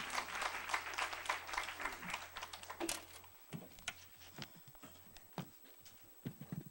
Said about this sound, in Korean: 큰 박수로 우리 모시겠습니다